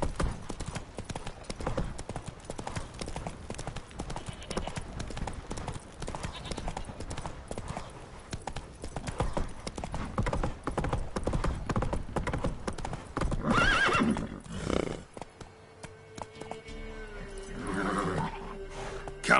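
Roach, a horse in The Witcher 3 on PS4, gallops with fast, continuous hoofbeats, a neigh near the end, and a voice briefly heard over the hooves.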